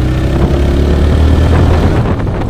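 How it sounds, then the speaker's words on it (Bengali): A motorcycle engine runs nearby as a loud, steady low rumble with an even throb, holding at one speed from start to finish without any voices. "তো চলো ভাই একটু সাউন্ডটা শুনে নাও বাইকের।"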